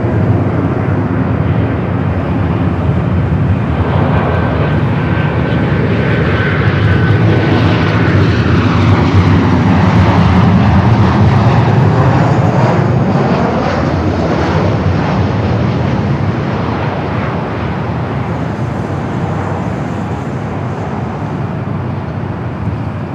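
A Singapore Airlines heavy jet crossing runway 24 left at Los Angeles International Airport gives a loud, steady engine roar that holds strong and close throughout before easing slightly toward the end.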